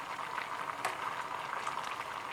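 Fermented fish curry with tomatoes (pla ra song khrueang) simmering in a pot, a steady soft bubbling and popping that continues evenly throughout, with no talk.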